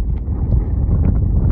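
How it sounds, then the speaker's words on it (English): Strong wind buffets the microphone outdoors in the desert near the Salton Sea, California, a loud continuous low rumble with gusty fluctuations and no voices. "It's real windy right now,"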